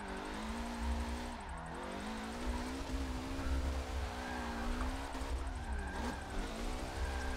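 Car drifting in Forza 7, played on a Logitech G920 wheel in first-person view: a steady, loud engine drone with shifting revs and tire noise runs throughout without pause.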